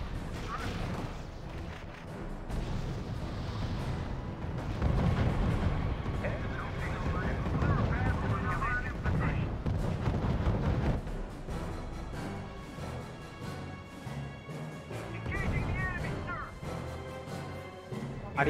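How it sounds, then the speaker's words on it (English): Incoming artillery shells explode in the RUSE World War II strategy game at Kasserine Pass, a dense run of booms and gunfire rumbling continuously beneath game voice lines and battle noise. "근데 날라오는 야포들이 부정확해 보이는데"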